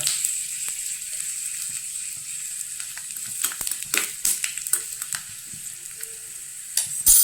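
Mustard seeds, fenugreek and dried red chillies frying in hot oil for a mango pulissery, giving a steady close hiss with scattered pops and crackles that grow sharper toward the end.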